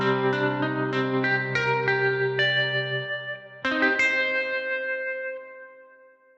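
A synthesized melodic phrase passes through the Pulsar Primavera spring reverb plugin preset: plucked-like notes strike in quick succession, pause, then return, each trailing a bright, metallic shimmering tail that rings and decays.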